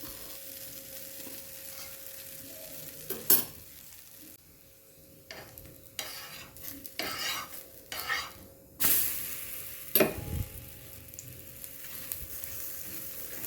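A protein-rich dosa fries on a hot pan with oil or ghee, giving a soft continuous sizzle broken by several sharp scraping and stirring bursts from a utensil against the pan. Nobody speaks.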